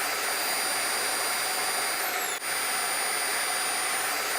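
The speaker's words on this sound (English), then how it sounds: "The vacuum will switch on automatically." An RVac central vacuum system installed in an RV runs with a steady, loud broadband whoosh and a faint high whine, the tone briefly dipping and shifting as suction changes.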